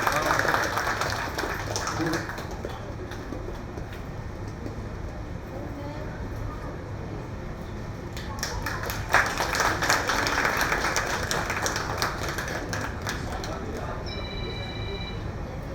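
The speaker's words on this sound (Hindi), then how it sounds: "एक बार ताली बजा दें ऋतुराज जी।" An audience at the Jharkhand Mahotsav festival applauds, the clapping building to a louder burst partway through and then easing, amid faint background hum and a few tonal beeps near the end.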